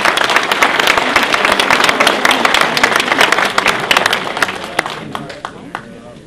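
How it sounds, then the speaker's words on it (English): A conference audience at a political rally applauds a speaker, a loud, dense burst of close clapping that holds steady and then gradually thins and fades over the last couple of seconds, with some voices mixed in. "let's give him a round of applause"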